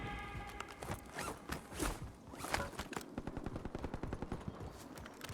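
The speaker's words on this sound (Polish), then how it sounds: "Przed nami z budynka strzały." Rapid bursts of gunfire in the game Call of Duty: Warzone crackle in quick succession, with sharp repeated shots and a busy, dense texture throughout.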